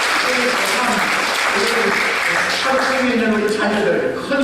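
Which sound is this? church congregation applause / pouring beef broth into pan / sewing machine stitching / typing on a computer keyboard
church congregation applause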